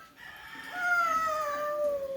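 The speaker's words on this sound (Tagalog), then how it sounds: "Sa tingog sa chicken?" A chicken calls once in a single drawn-out, falling crow-like note lasting over a second, fairly faint against a quiet background.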